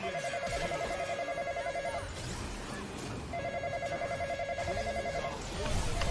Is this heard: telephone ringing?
yes